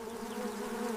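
Insects buzz steadily from a shed, a continuous droning hum of bees or wasps that stays even and fairly faint for the whole second.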